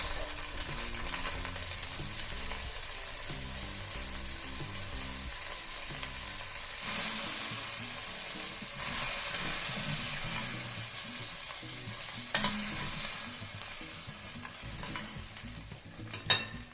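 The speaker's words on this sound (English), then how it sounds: "brown as much meat as we can at a time without overcrowding the pan. And this is on just a medium-high heat" Beef chunks browning in a pan over medium-high heat for stew, with a steady close sizzle and occasional scraping and stirring of the meat, no voices.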